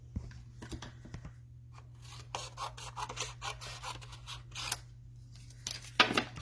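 Scissors snip and rub through a scrap piece of paper in a quiet room, with short, uneven crisp cuts, soft rustling and a low steady hum underneath.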